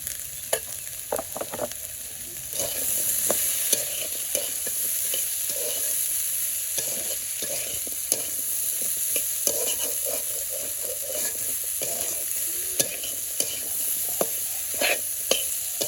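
Potatoes with salt, turmeric and chili frying in a pan in a village kitchen, a continuous soft sizzle with repeated clicks and scrapes of a spatula stirring, close but fairly quiet, no talking.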